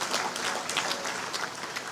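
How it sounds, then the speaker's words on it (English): Audience at a national council meeting on innovation, science and technology breaking into steady applause, dense clapping from many hands filling the room, fairly loud and continuous without talk. "I think he deserves a round of applause for that."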